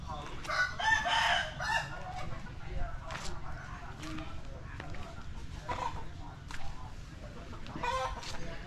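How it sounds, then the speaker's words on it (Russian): Caged fighting roosters crow and cluck repeatedly in a fishermen's village on an island near Kep, at moderate distance, while a person talks nearby. "Тут петушки."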